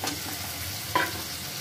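Fried eggs go into a pan of curry, giving a brief burst of sizzle and a soft stir over a steady background hiss.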